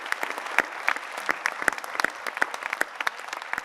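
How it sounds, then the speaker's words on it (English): An audience at a geospatial conference plenary panel gives the panelists a round of brisk applause, moderately sized and steady, with individual claps standing out near the listener. "Please give a round of applause for our wonderful panelists."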